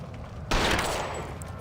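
Gunfire in the video game L.A. Noire, an abrupt loud burst of shots that decays into a rattling, reverberant tail.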